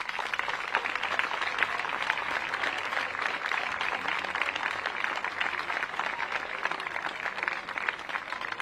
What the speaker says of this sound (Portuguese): uma salva de palmas a todas as equipas